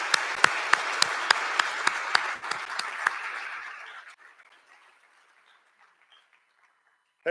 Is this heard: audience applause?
yes